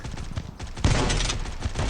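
A wall-bang gunshot in a competitive video game match: a loud, dense burst of gunfire that starts abruptly after quieter background game noise and carries on as sustained rapid shots.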